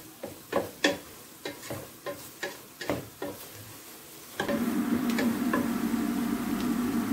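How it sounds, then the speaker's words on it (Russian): Onion and flour fry in a pan while a spoon scrapes and taps in a string of sharp strokes, and then a steadier close sizzle swells up under continued stirring. "Нам нужно обжарить лук с мукой до момента, когда будет идти запах такой ореховый."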